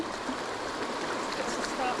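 A mountain trout river in the North Carolina hills rushes steadily nearby, its broad, even hiss of flowing water filling the air with no pauses, and a voice is faintly present beneath the water.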